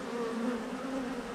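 Honey bees buzz around hives on a sunny day in Florida, a steady, soft, continuous hum with a droning tone and no voices.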